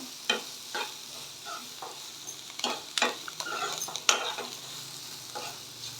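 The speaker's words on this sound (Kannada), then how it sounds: "ಈಗ ಮೀಡಿಯಮ್ ಫ್ಲೇಮ್ಗೆ ಇಟ್ಬಿಟ್ಟು ಒಂದೆರಡು ನಿಮಿಷ ಇದನ್ನು ಫ್ರೈ ಆಗಿಬಿಡೋಣ" Vermicelli upma fries on a medium flame, a soft continuous sizzle broken by repeated scraping and stirring strokes of a spoon in the pan, close by and with no talking.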